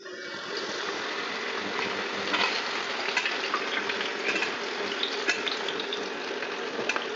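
Papaya, sweet potato and potatoes frying in hot oil for shukto give a steady, dense sizzle with faint crackles that runs unbroken throughout, close and with no voices.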